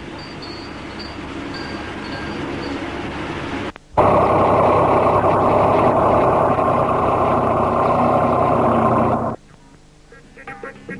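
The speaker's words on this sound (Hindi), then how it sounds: "ट्रैक्टर की गड़गड़ाहट ने उसके अज्म और हौसले को और भी मजबूत बना दिया है।" A loud, steady tractor engine rumble, on salt-affected farmland in Pakistan, fills most of the clip, starting abruptly after a quieter stretch of machine noise and cutting off near the end.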